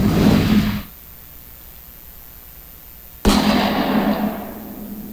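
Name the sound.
horror weapon sound effect from YouTube audio library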